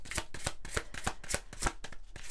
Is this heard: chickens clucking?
no